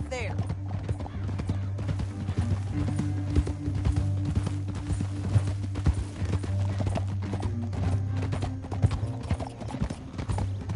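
Horse hooves clip-clop steadily through a Red Dead Redemption 2 game scene, a continuous rhythmic patter under a low droning music bed, with an occasional whinny.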